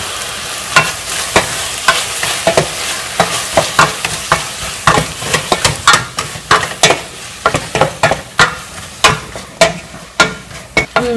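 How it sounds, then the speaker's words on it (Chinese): Tomatoes and mushrooms stir-fried in a pan with chili and lemongrass for Tom Yum soup: a steady sizzle under quick, rhythmic scrapes and taps of the spatula, close and fairly loud, with no talking. "西红柿放进去炒一下，再把蘑菇也放进去炒一下"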